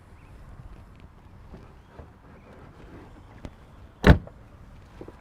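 Rear cover of a Porsche 718 Spyder shutting with a single firm, close thud after a few seconds of quiet handling noise, then a faint small knock.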